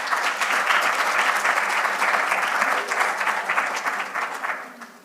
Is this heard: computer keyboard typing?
no